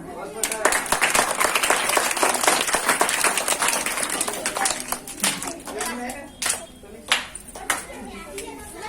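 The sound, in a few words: audience applause after a dance performance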